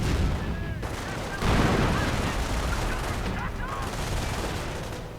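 Sustained video game gunfire in a World War II strategy match aimed at a German Volkswagen vehicle, dense bursts and rattling volleys layered with distant booms, loud and continuous throughout.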